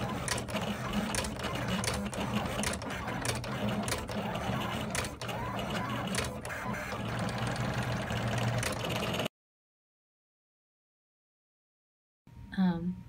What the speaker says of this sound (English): we are going to hit the send button and the Curio is going to etch.